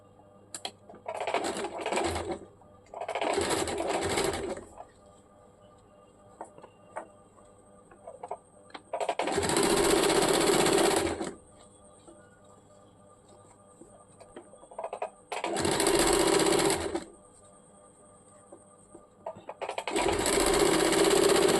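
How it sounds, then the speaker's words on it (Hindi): A sewing machine stitches a salwar hem in several separate bursts of fast, even clatter, with quiet pauses between runs. "अभी इसको पीछे की तरफ फोल्ड करके एक सिलाई चलाएंगे"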